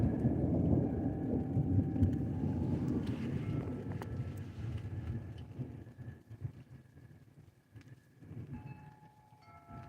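Storm on the Oregon coast at night: a deep, continuous rumble of thunder rolls on and slowly fades, with wind-like noise and no speech.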